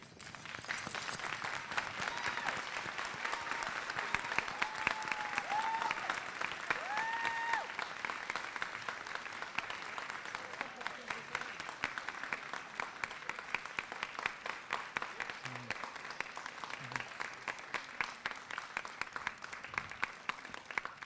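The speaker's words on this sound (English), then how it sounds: "Seniors, I ask that you stand and applaud your family and friends" Graduating seniors at the 2017 Utica Academy for International Studies graduation stand and applaud their families and friends, producing a long, sustained wave of crowd clapping that stays steady and full throughout, with faint whoops mixed in.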